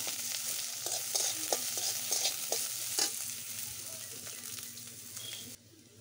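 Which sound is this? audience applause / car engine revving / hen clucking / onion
onion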